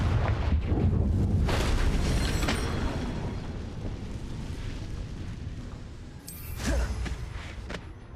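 A Confringo blasting spell from a video game erupts in a deep rumbling explosion, loud booming bursts that fade into a long rolling roar, followed by a second sharper blast near the end.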